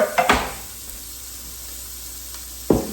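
Faint steady sizzling of a spaghetti grilled cheese sandwich frying in a pan, punctuated by a few sharp clinks and scrapes of a utensil at the start and end.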